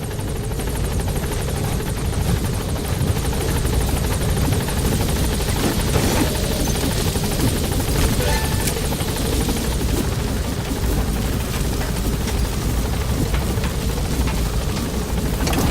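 A helicopter's rotor in the video game Metal Gear Solid V: The Phantom Pain drones loudly and steadily throughout, a dense, constant thrumming roar with no pauses.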